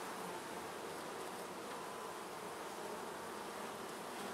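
Honeybees buzzing in an opened hive in a weak colony, a dense, steady close-up drone with no pauses.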